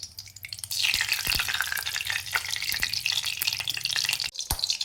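Semolina roasts in ghee in a kadhai over a low flame, giving a close, steady sizzle with scraping stirs and light clinks throughout, with no talking.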